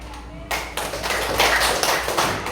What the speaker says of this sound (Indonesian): coba kita tepuk 3 kali